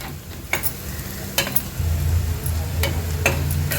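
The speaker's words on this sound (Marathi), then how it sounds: "वाटण पण छान तेलावर शिजवून घ्यायचं आहे" Dry coconut masala paste sautés in oil for a sprouted moth bean curry, a steady low sizzle broken by a few sharp scraping stirs that land every second or so.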